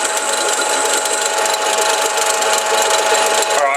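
Metal lathe taking very small, light cuts while turning a crankcase breather part for a postie bike, a steady whirring machine drone with faint chatter, continuous and fairly loud throughout.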